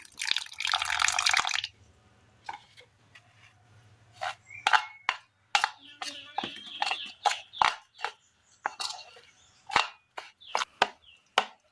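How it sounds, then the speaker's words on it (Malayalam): Water poured into semolina dough in a Kerala kitchen: a short splashing pour, then a series of wet, sticky slaps and squelches as the dough is mixed by hand, close and fairly quiet. "നമുക്കിനി ഇതിനകത്തേക്ക് ഒരല്പം വെള്ളം കൂടി ഒഴിച്ചു കൊടുത്ത് നന്നായി ഒന്ന് മിക്സ് ചെയ്തെടുക്കണം"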